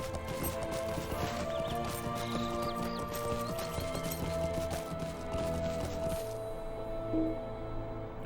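Horse hooves clip-clopping in the online game Lord of the Rings Online, a steady rapid rhythm of hoof beats under game ambience and music tones, ending abruptly near the close.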